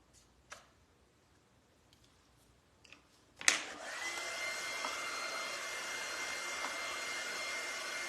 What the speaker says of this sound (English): Just blow drying it super quick.